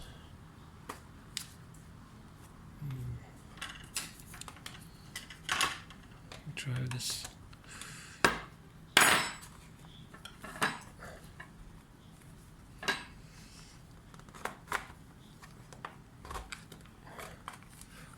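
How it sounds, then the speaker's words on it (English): Plastic clips on an HP Pavilion 15-AB289SA laptop case snap loose as the case is prised open, giving scattered sharp clicks and cracks at irregular intervals, with brief talk in between. "This needs to come away from the side, so you will hear a clicking sound."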